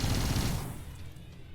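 Gunfire in the space strategy video game Between The Stars: a dense, loud burst of rapid shots that fades away into quieter noise over about a second.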